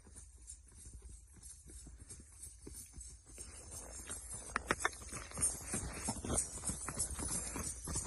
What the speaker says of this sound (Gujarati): જોઈ રહ્યા છો આપણે ઋતુભાઈ ઘોડી લઈને આવે છે।